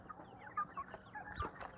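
Chickens raised at home cluck close by in a quiet setting, giving a string of short, scattered clucks and chirpy calls at an uneven rhythm with no talking.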